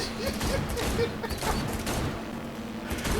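Gunfire aimed at a van in the Cyberpunk 2077 video game, rapid bursts of shots over a low engine drone, with a voice talking intermittently underneath.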